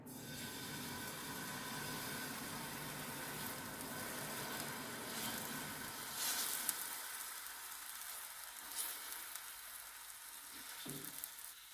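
Rava dosa batter sizzles on a lightly oiled dosa pan with a steady, close frying hiss that gradually softens and thins out toward the end.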